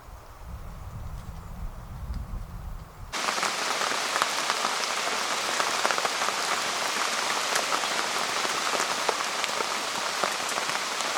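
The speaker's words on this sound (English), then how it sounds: "Proper rain," Heavy rain pounding on a military arctic tent at a permanent base camp, a dense steady patter of countless drops that starts abruptly after a few seconds of low rumbling and then continues evenly.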